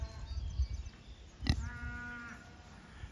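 A pig on a farm gives one short, strained cry in the middle, alongside a sharp knock and steady low outdoor rumble.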